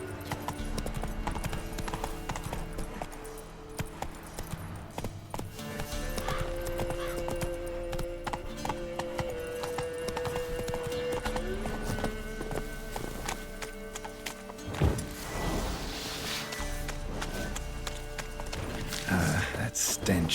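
Hooves of Roach, a horse in the Witcher 3 video game, clip-clop steadily beneath game music and ambience, with a brief whinny and a voice speaking near the middle.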